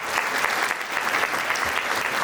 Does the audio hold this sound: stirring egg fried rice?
no